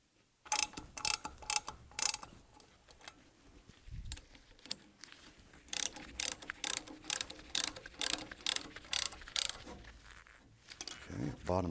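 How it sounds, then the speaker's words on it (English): Ratchet tightening casing bolts evenly around an O-ring gasket seal during assembly of a close-coupled kit, giving bursts of rapid clicking strokes that come and go, with speech present at times in between. "we'll tighten them up evenly so that we pull this down straight all the way around"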